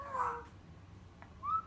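A cat gives two short meows, one early and a fainter one near the end, close by in a quiet room with a low background hum.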